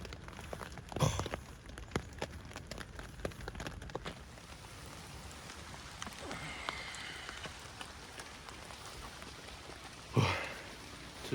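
Steady rain falls during a road trip through Germany's Black Forest, a soft continuous patter with occasional louder drops and bumps throughout.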